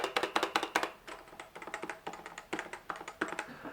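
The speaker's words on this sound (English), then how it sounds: "the actual sound of the keyboard, instead of the clack, clack, clack," Typing on a CM Storm NovaTouch TKL keyboard with Topre switches: a quick, steady stream of soft, muted key taps in irregular bursts, close up and fairly quiet, with no voices.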